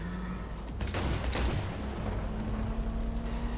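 Gunfire in Cyberpunk 2077 during a car chase, with a close, dense burst of shots around the middle over a steady engine rumble.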